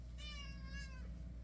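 A domestic cat sitting on a lap gives a single clear, drawn-out meow close by, over a low background hum.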